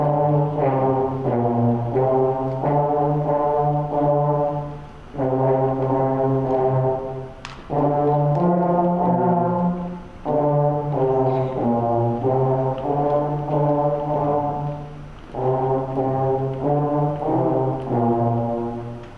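Fifth grade school band brass section playing a piece at a concert, loud sustained low chords in repeated phrases with short breaths between them.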